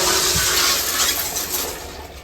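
A train toilet on the Pamban Express flushes with a loud close whoosh of rushing water that gradually fades over a couple of seconds.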